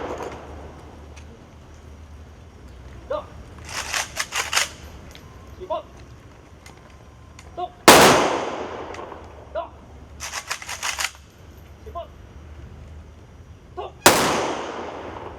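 Rifle volleys of a 21-gun salute ring out at an Araw ng Kagitingan ceremony at the Jose Rizal Shrine in La Trinidad, with sharp loud blasts spaced several seconds apart over a murmuring outdoor crowd.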